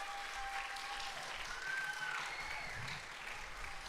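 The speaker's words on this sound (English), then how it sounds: "give that a round of applause" A concert audience applauds for the students of a youth music program, a faint, even wash of clapping with some tonal sounds over it.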